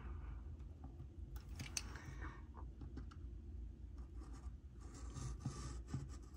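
Scissors trim leftover cardboard box from a Happy Planner recipe book page, giving faint, scattered snipping and rubbing sounds close by, with no talk.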